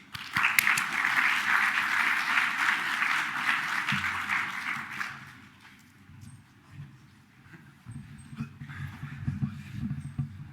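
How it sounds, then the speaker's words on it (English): Applause from a workshop audience at a NeurIPS 2025 music event, a moderate wash of clapping that fades out after about five seconds into quieter room noise and movement. "Round of applause"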